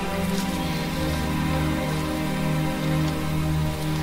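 Steady rain falling in the video game The Dig, a continuous close hiss with patter over a low droning background, unbroken for the whole stretch.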